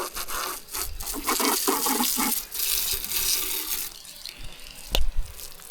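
Cold water flushing over a boat's outboard motor cowling at the back of the boat, a hissing, splashing spray that runs steadily with rubbing and dripping breaks, then a couple of louder splashes near the end.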